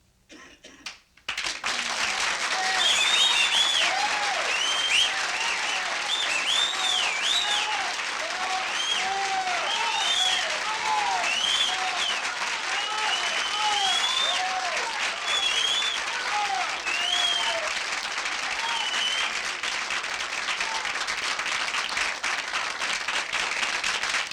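Audience applauding a comedian at a 1967 stand-up performance, sustained loud clapping from a large crowd with whistles and scattered cheers, continuous for over twenty seconds.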